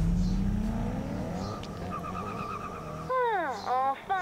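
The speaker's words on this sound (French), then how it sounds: "Je vais faire du drift." Car drifting in a Need for Speed racing game, a loud engine whine rising and falling with tire screeches near the end while someone talks over it.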